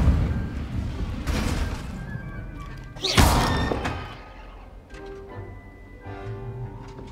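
An Incendio fire spell cast in Hogwarts Legacy lands as a heavy whooshing thud with a bright burst, followed by fading rumble and scattered game effects at moderate loudness.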